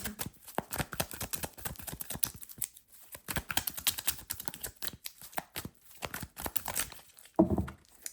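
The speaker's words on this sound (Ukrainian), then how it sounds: "Тасуємо нашу колоду карт, щоб з'єднатися саме з вашим партнером." A deck of tarot cards is shuffled by hand, giving dense papery riffling and flicking bursts in close, quiet succession with short pauses, ending in a brief tap.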